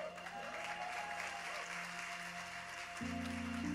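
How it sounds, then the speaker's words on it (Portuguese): Church congregation applauding for the pastor during a worship service, a continuous wash of many hands clapping with a sustained musical tone entering near the end. "você desse uma grande salva de palmas"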